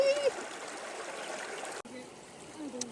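Kennebec River water flows in a steady, soft rushing wash outdoors, with a faint voice briefly present over it.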